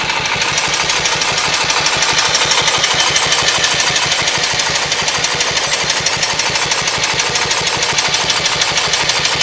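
A Moto Guzzi motorcycle engine ticks over at low idle, a loud, close, steady rapid pulsing throb with an even mechanical rhythm and no voices.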